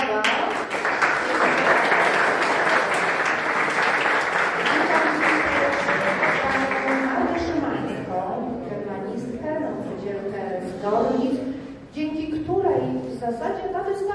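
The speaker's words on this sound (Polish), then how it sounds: "Wielkie brawa!" An audience applauds warmly at a Przemyśl gathering for a White Rose exhibition: a dense, steady wash of many clapping hands for about seven seconds, then a voice speaks over the fading room.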